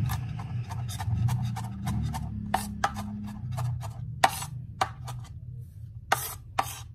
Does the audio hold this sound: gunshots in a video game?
no